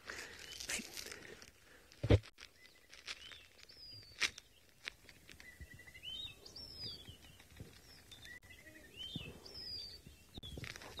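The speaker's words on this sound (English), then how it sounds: "I can hear the birds, but you won't be able to hear them very well." Wild birds calling during a guided safari walk, faint chirps and whistled notes scattered through the clip, heard at a distance beneath rustling and crinkling close to the microphone.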